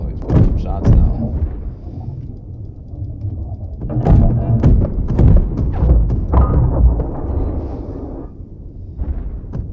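Ship cannon shots booming in the Marauder video game, a run of heavy thuds and blasts in clusters, loud and close, with a voice talking over them.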